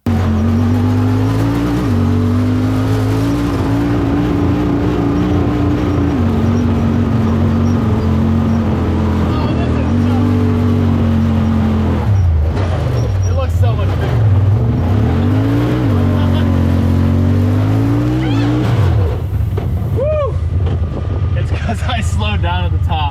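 An off-road vehicle grinds through soft sand dunes at Silver Lake, its engine droning close and loud, then revving and straining in rising, falling bursts as the tires dig in, with talk over the noise.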